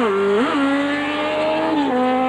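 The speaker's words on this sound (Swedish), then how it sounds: "Motorcyklisten drar helt enkelt iväg." A motorcycle speeds away from police at a roadside stop, its loud, close engine rising in pitch and dropping twice as it shifts gears while accelerating.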